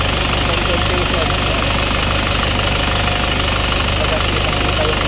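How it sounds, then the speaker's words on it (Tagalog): An Isuzu Crosswind XT engine idles close by, a steady, loud mechanical chug with a fast regular knock running evenly throughout. "Ayan, ito yung ating makina."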